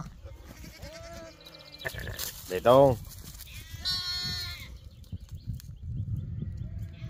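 Sheep bleating on a farm where two ewes have just given birth, several wavering close bleats, one loud and drawn out, with a person talking in between.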